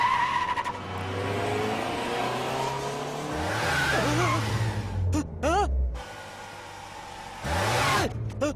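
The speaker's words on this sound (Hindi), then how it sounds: "गाड़ी स्पीड में ले जाके वहां ब्रेक मारना।" A car at speed brakes hard and skids into a long tire screech. Several shorter squeals follow under an engine roar, then a final burst of noise. Faint voices mix in.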